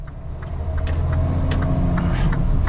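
A car accelerates from a standstill at full throttle on a 0 to 60 run, its engine a steady, loud roar with a few faint clicks and rattles inside the cabin.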